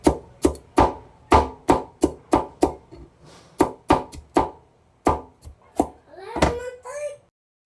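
Bitter gourd (ampalaya) sliced for sautéing, with about fourteen crisp knife chops on a board in a steady, close rhythm; a brief voice rises near the end.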